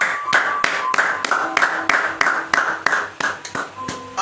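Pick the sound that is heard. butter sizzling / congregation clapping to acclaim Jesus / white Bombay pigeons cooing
congregation clapping to acclaim Jesus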